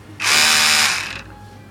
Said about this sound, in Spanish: Un buen cepillo de dientes.